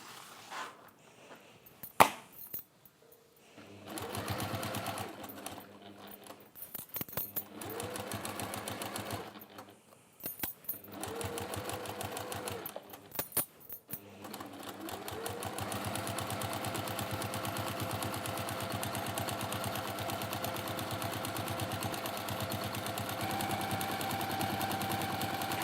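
A sewing machine top stitching fabric runs in several short bursts with pauses, then settles into a longer continuous whirring run, close and moderately loud, with no speech.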